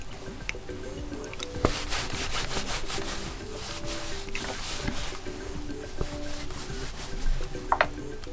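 Microfiber cloth wiping the display of a Motorola Moto G Pure phone, a close, soft rubbing and squeaking that continues in short strokes, fairly quiet.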